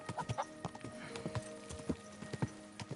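Horse hooves gallop in the video game Kingdom Come: Deliverance II, giving quick, uneven clip-clop beats at close range over a soft background.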